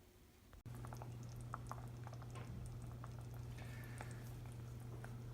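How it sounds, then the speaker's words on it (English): Thai coconut curry sauce simmering in a saucepan, a quiet steady bubbling with soft pops and small plops over a constant low stove hum, close and faint. "this has been simmering for a while and has reduced quite a bit"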